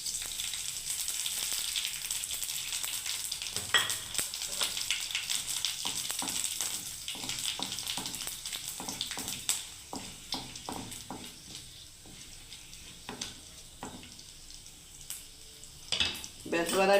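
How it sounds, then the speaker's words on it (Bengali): Cumin, dried red chilli and nigella seeds crackle in hot oil, a steady close sizzle broken by scattered pops and stirring scrapes throughout. "এবার আমি এটাকে বন্ধুরা ফোড়ন দিয়ে দিচ্ছি"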